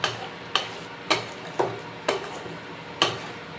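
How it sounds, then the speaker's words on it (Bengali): Fried jackfruit and potato sautéed in a pan, with six sharp spoon scrapes and clinks spaced about half a second apart over a low, steady sizzle. "সেই ভেজে রাখা এঁচড়গুলো দিয়ে দিলাম দিয়ে আবারও ভালো করে কষিয়ে নেব"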